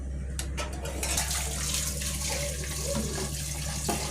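Tamarind water being poured into a cooking pot and simmering, a steady liquid pouring and bubbling wash with a low hum beneath, continuous and moderately close.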